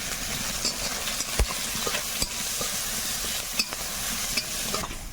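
Prawns hit a hot pan with onion, green chilli and turmeric and fry in a steady, close sizzle, with scattered scraping stirs and small pops throughout and no one talking.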